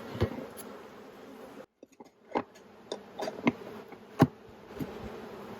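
Bees buzz around an opened beehive, a constant close drone with a brief lull and several sharp passes as individual bees fly near.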